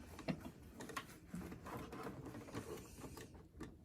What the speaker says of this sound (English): while I'm here at the sewing machine, I'm going to go ahead and do my top stitching as well